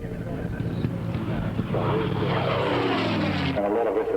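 A propeller airplane roars past at an air show at RAAF Point Cook in 1983, with a loud, droning engine whose pitch shifts as it goes by. Steady background noise runs under it.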